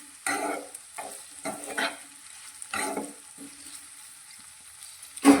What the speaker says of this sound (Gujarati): મિક્સ કરી લઈશું